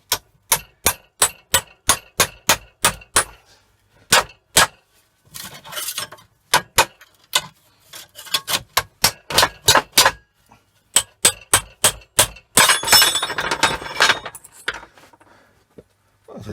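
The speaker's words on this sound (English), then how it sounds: "slowly hammering" Repeated sharp metallic taps from slowly hammering a drilled-through Allen key into a chunky iron control-panel knob, steady bursts of close, bright clinks with short pauses and scraping in between.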